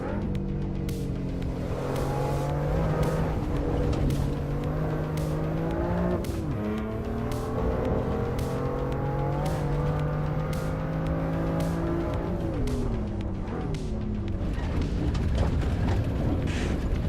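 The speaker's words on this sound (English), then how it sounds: "So we are driving the BMW M2 competition." A BMW M2 Competition car revs its engine up and down, the pitch climbing and falling through gear changes over a steady roar, with tire squeal layered in throughout.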